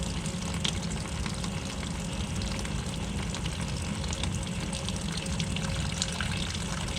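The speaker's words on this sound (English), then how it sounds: "Alright, the coolant finally drained." Coolant draining from a Subaru WRX radiator, a steady close trickling and splashing of liquid with constant noisy wash throughout.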